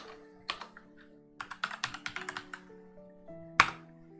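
Fingers type code on a computer keyboard in short bursts of crisp clicks with brief pauses and one sharper key strike near the end, close and alone with no talk.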